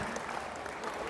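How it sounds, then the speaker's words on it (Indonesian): Brief burst of steady applause from students in a school hall, a dense, moderately loud clapping lasting about a second. "tepuk tangan yang meriah untuk teman-teman."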